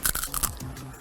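Crisp bites into crunchy saba banana chips, a quick cluster of sharp crackling crunches up close followed by softer chewing, no talk.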